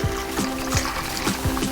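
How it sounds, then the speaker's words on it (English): Strained birria meat juice poured from a container over shredded beef, a soft close trickle and splash with light repeated knocks of the vessel, no talking. "I'm gonna pour the juice"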